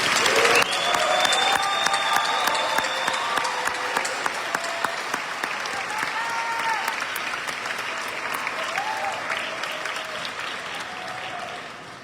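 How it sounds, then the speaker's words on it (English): A crowd at a school academic signing day applauds, dense clapping continuing for about twelve seconds and slowly thinning, with occasional whoops and cheers rising above it. "let's give the graduating class of 2025 a well-deserved round of applause"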